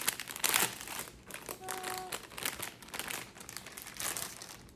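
A plastic fabric wrapper crinkles and crackles as a piece of fabric is pulled out, in bursts of loud rustling that stop and start across the stretch, close to the listener with no talking.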